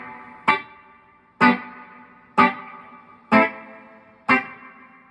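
Solid Gold FX Surf Rider III spring reverb pedal processing five evenly spaced, loud plucked guitar notes, each attack followed by a smooth reverberant decay with no talking.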